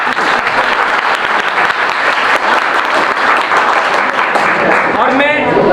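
Audience at a school seminar in a junior high school claps loudly and continuously, a close, dense wash of applause with a voice beginning to speak at the very end.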